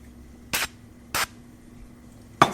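Three short bursts of spray from a can of duck fat, misting onto a pan set out to grease it before cooking a Japanese omelet; each hiss is brief and close, with quiet pauses between them and no talking.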